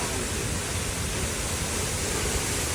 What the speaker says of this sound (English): this is what it looks like when you walk through the Monkey King Cave waterfall.